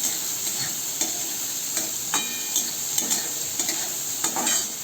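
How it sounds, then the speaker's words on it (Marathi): Chopped onion sautéing in a pan over medium gas, a steady soft sizzle with repeated scraping stirs of a spoon at an irregular rhythm, close by. "मीडियम गॅसवर मी कांदा परतून घेते."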